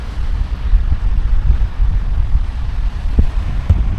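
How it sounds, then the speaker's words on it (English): Strong wind on the Lanzarote coast buffets the microphone during a bike ride, a loud, constant low rumble with small gusty thumps and no voices. "Very windy."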